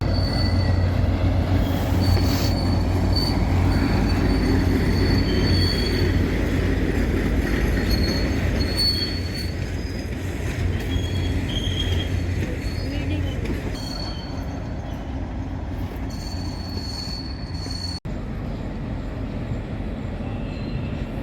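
An electric train runs along a railway line on the Jodhpur–Delhi route near Sujangarh station, a long steady roar with wheel squeal and rumbling that gradually eases off. No one speaks.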